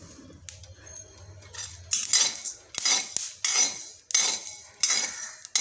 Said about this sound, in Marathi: हे धने भाजल्या जात आहेत